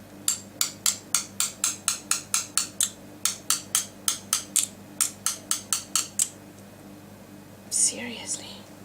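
Sharp hammer taps while assembling a pen, about twenty crisp close strikes in quick, even bursts, followed by a brief pause and a short scraping rustle at the end.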